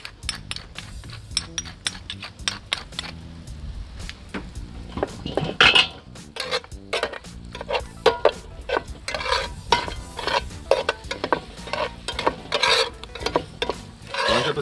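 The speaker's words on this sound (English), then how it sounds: "Once you add the potato and mix it well with the zucchini and the tomato" Potato, zucchini and tomato being stirred in a cast iron pan, with repeated scraping and clinking of a utensil against the iron and a soft sizzle underneath, close and steady with no voices.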